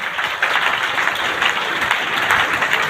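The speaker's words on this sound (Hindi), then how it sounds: "एक जोरदार ताली होना चाहिए।" An audience at a DXN business meeting in Prayagraj claps loudly and steadily, a dense wash of applause with no talk over it.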